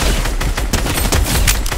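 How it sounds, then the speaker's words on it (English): Rapid gunfire from a boss in Fortnite during a stormy-day heist, a dense string of loud, close shots rattling continuously through the whole moment. "the boss is shooting me"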